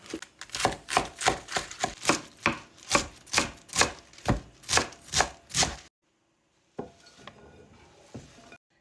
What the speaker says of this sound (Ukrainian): Беру невеличку головку капусти пекінської і нарізаю її довільними шматочками